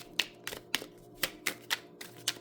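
Tarot cards are shuffled by hand in a rapid series of about nine crisp riffling snaps at a steady, slightly uneven pace. The sound is close and distinct, with no talking.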